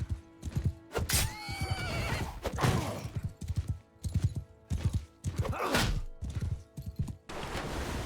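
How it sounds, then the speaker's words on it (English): Horses neigh and whinny repeatedly amid the clatter of a video game battle in a Robert Guiscard campaign, several loud whinnies rising over hoof clip-clops and thuds. "That horse is going to go down here."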